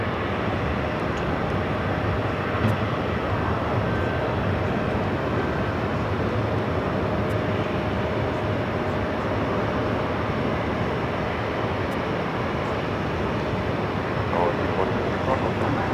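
A jet airliner at JFK airport roars in a broad, steady rumble that holds for the whole stretch, loud and continuous, while radio chatter and a voice talk faintly over it.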